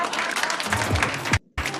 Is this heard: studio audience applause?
yes